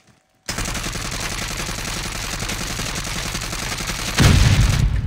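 Rapid, continuous video game gunfire starts abruptly after a short silence and rattles on loud and close, swelling into a heavier burst near the end.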